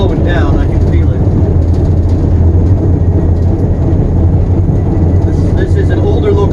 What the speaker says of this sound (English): This is an older locomotive.